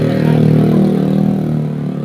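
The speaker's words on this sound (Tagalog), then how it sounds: "Pagpasensyahan nyo na yun maingay dahil may dumaan na motor." A motorcycle engine drones steadily as it passes close by on a road, a loud continuous mid-pitched rumble that fades slightly toward the end, with no talking.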